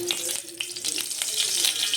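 Oil sizzles and crackles in a hot pan on a stove while veg pasta is cooked, a close, steady frying hiss with sharp pops throughout.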